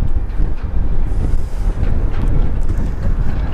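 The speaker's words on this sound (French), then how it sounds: "je suis désolé s'il y a un petit peu de vent aujourd'hui" Steady, loud wind buffets the microphone on the deck of a 2003 Mangusta 72 motor yacht, a continuous rushing roar with gusts and no talk.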